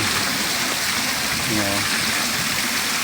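Water spills as a small waterfall in an aquaponics system, a steady rushing gush onto sand below that runs continuously and fairly close.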